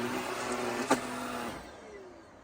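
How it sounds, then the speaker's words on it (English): A vacuum cleaner runs steadily close by with a bright, even whine, one brief bump partway through, then it quickly powers down and fades to near quiet. "I like you hoovering."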